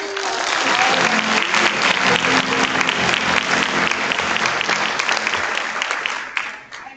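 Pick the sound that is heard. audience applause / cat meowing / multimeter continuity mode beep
audience applause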